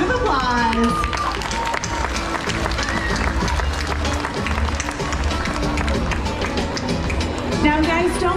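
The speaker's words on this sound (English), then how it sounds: "You all deserve a huge round of applause." An audience at SeaWorld San Diego's dolphin show applauds in a large arena, with dense, steady clapping and crowd noise spread across the venue while an announcer's amplified voice carries over it.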